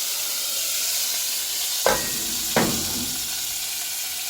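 Hot oil in a kadai for fish molly with a steady frying sizzle, broken by two sharp, brief bursts of louder hiss close by, as if liquid or food meets the oil.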